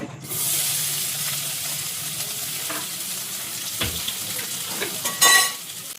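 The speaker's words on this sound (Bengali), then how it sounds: "দেখুন, তেল গরম হয়ে গেছে, এবার আমি প্রথমে রসুনটা দিয়ে দেবো।" Garlic dropped into hot oil in a kadai, bursting into a bright, close sizzle that settles into a steady crackling hiss with a few scraping stirs, no talking.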